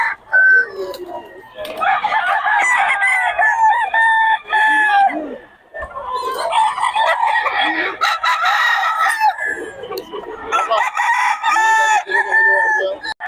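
A black hen calls out in loud, clucking and crowing bursts with short gaps between them, close by, alongside other fowl.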